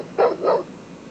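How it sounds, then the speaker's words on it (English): A Rottweiler barks twice in quick succession, played through a smart speaker, close and fairly loud with a short quiet tail after. "hear what a Rottweiler sounds like"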